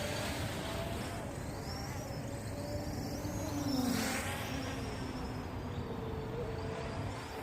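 A Hubsan X4 H501S brushless FPV quadcopter drone flies outdoors, its motors giving a faint, wavering whine. The whine swells briefly midway over a low, steady background.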